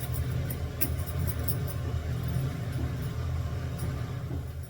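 A constant low mechanical hum and whir of a kitchen chimney exhaust fan droning steadily, with a few faint clicks on top.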